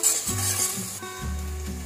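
Onion, garlic and ginger paste frying in hot oil for mutton biryani, a loud continuous sizzle with rhythmic stirring strokes scraping the pan close by.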